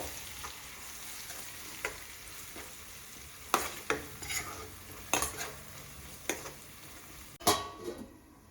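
Ginger garlic paste with a tablespoon of turmeric stirred in a pan for fish curry, giving a soft steady sizzle broken by scattered scraping strokes of a spoon, fairly quiet and close.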